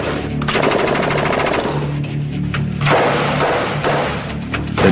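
Negev light machine gun firing on full automatic, long loud rapid bursts of shots with brief pauses between strings, close and without talk.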